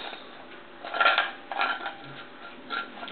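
An incense blend with frankincense is stirred in a bowl, making a few light scraping and clinking bursts that come in short, uneven strokes with quiet gaps between them.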